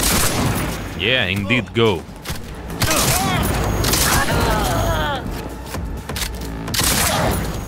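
Shotgun blasts and other gunfire ring out in the video game Cyberpunk 2077, loud bangs mixed with a busy game soundtrack while someone talks over the action.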